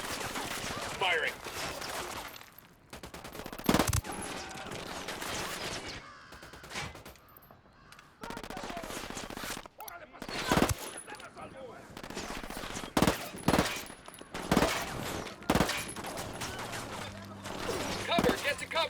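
Rapid automatic gunfire in Ghost Recon Wildlands cracks out in repeated sharp bursts and single shots across the whole stretch, loud and close, with voices talking between and under the shooting.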